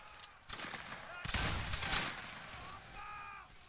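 Volleys of musket gunfire from massed line infantry in the Roblox Napoleonic battle game Wagram, dense crackling shots layered over each other, with faint voices and a brief tonal chant underneath.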